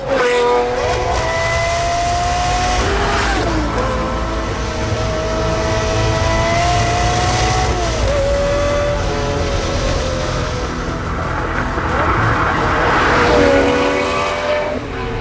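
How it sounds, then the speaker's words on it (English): A Lamborghini Murcielago LP670-4 SV with a naturally aspirated V12 drives a North Wales road, its engine a loud continuous roar heard from close by that climbs in pitch through the gears and then drops at each shift. "Time to bust out a V12. Ladies and gentlemen, I give you the Murcielago SV."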